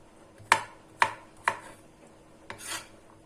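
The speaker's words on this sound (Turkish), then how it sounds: "Şöyle bölüyorum sarımsaklarımı da." Garlic cloves being cut with a kitchen knife on a board while making tomato-sauce pasta, four sharp, separate chops spaced about half a second apart, close and clear with no talk.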